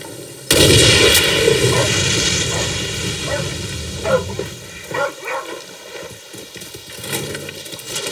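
A dog barks in a Far Cry 6 game scene, a few sharp barks arriving in the second half over a dense, loud bed of game ambience and action noise.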